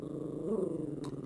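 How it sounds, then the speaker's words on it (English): Dogs growl in a low, steady rumble that stays fairly close and continuous for the whole moment, heard in the background of a chemistry lecture room. "dogs are being extra naughty today"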